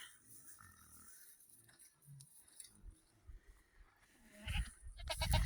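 Goats bleat softly amid faint rustling and shuffling, growing louder near the end with closer bleats and movement.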